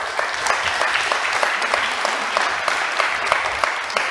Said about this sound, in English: round of applause for Tony.